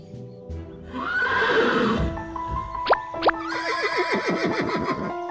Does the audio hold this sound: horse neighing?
yes